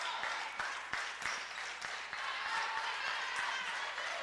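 A volleyball crowd at set point in an Alaska match applauds steadily, a continuous wash of clapping with occasional sharper claps standing out, filling the arena without break.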